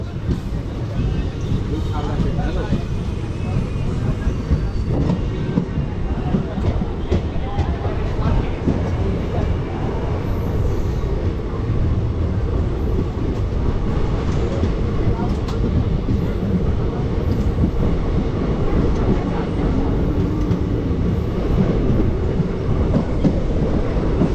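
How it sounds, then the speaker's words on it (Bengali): A Santragachi–Digha fast passenger train pulling away from Tamluk station rumbles steadily and loudly from inside the coach, with continuous wheel and track noise and faint clatter throughout. "এই হচ্ছে তমলুক থেকে আমাদের ট্রেন ছেড়ে দিল।"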